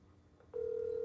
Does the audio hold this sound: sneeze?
no